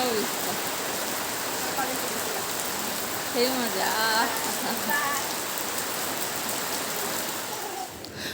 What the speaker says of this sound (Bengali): বৃষ্টিটা এখন হালকা কমেছে